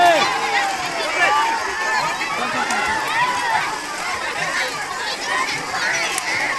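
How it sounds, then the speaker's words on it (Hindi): A big, jostling crowd at a Ganga riverside fair in Kaushambi, with people bathing and pushing; a dense, steady babble of many voices and shouts, including children, fills the scene continuously. "बड़ी भीड़ है भाई, भरकम भीड़ है।"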